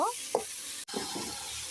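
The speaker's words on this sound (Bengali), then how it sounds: "এটা দিয়ে এখন ভালোভাবে কষিয়ে নিব।" Tomato stir-fried in a pan, a soft low sizzle with a couple of brief stirring scrapes, fairly quiet and broken by a short gap.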